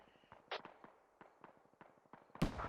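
Mortar rounds explode in a military video game, a scatter of quiet distant blasts and crackles ending with one louder, sharper bang, and no talking.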